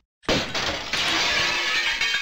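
Glass shattering in the video game Tomb Raider 2: a sudden loud crash that bursts in and stays dense and bright with scattering shards for about two seconds, heard alone with no voices.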